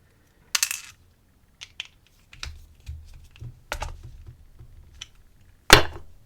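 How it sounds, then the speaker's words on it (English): Small metal screws from a Häfele Kaba cabinet lock set down one at a time, giving sharp light clicks and clinks scattered irregularly across a quiet background, close up. "I'm just going to put these little screws in here."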